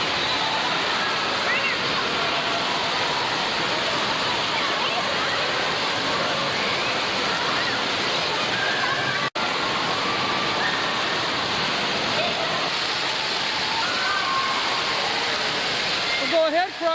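A waterfall roars steadily and close by, a dense broadband rush of water that runs unbroken throughout and dominates the scene.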